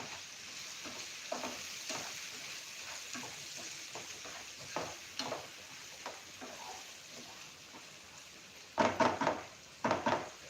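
Finely chopped onions, two of them, go into hot oil with chillies and garlic, sizzling steadily while a spoon stirs, scrapes and knocks against the pan in short bursts, loudest near the end.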